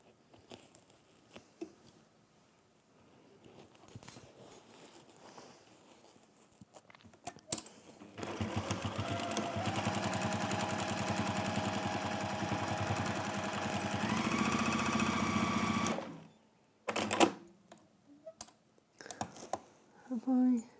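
A sewing machine stitches Chatham Glyn crafty velvet in one loud, steady run of about eight seconds, with a voice talking quietly before it starts and again after it stops.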